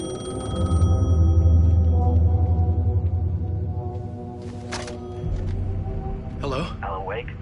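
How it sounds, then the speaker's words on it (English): An old-fashioned telephone bell rings repeatedly inside the Alan Wake video game, loud and near, with a voice speaking over the later rings and other game sounds. "phone was ringing. Somehow I knew the call was for me."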